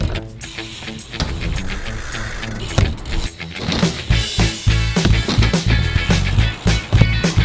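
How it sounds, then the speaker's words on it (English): A BMX bike with plastic-pinned pedals rolls across a skate park surface, its tires rumbling steadily while sharp clanks, rattles and thuds of the frame and ramps mark an uneven rhythm, close by. "let's go on the bike and see if we can start rolling a little bit"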